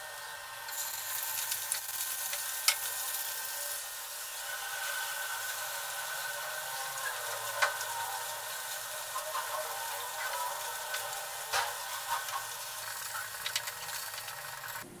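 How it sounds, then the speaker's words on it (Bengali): Bele fish pieces frying one by one in hot oil, giving a continuous close sizzle and hiss with occasional small pops and clinks, and no talking. "বাকি মাছগুলো আমি এক এক করে এইভাবে ভেজে নেব।"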